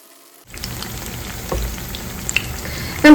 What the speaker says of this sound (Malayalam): നമുക്ക് ഇതുപോലെ തന്നെ അടുത്ത ബാച്ച് പഴവും ഫ്രൈ ചെയ്തെടുക്കാമേ.